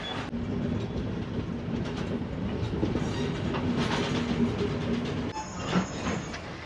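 An old passenger train on Sri Lanka's coastal line rumbles steadily along with a low, rattling clatter, heard from inside and fairly subdued, and a brief thin wheel squeal rises near the end.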